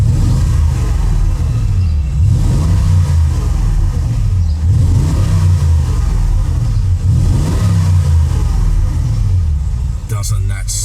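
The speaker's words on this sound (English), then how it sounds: "Let's get just a little bit of pep so you get that V8 sound." A 2013 Porsche Cayenne Turbo V8 revs repeatedly in deep, rumbling swells that rise and fall about every two seconds, loud and close, with someone talking over the engine.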